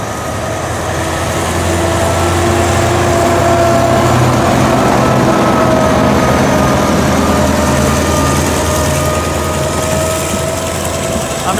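Alsthom AD24C diesel locomotive number 4410 hauling a long express train, a steady loud engine drone with rumbling wheels and a faint high tonal whine throughout.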